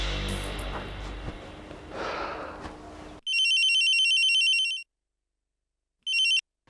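A telephone rings with a bright electronic ringtone for about a second and a half after a stretch of noisy room ambience. After a short silence, a second ring begins and is cut off.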